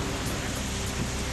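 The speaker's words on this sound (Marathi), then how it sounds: "वाशिमच्या कामरगाव परिसरात अनेक ठिकाणी अचानक सरी बरसल्या" Sudden rain showers in the Kamargaon area of Washim make a steady, dense hiss that stays even and unbroken throughout, with no voices.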